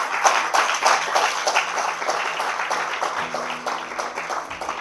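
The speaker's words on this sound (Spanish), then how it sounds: "Que dé un aplauso al Señor." A church congregation gives a round of applause during a service on giving, brisk clapping from a room of people that thins a little toward the end, with some murmuring underneath.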